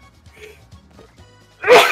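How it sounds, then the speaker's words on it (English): A single short, loud sneeze bursts out at the end, after a stretch of quiet murmuring and faint background noise. "Hold on, I gotta sneeze."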